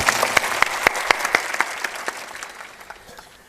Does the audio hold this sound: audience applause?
yes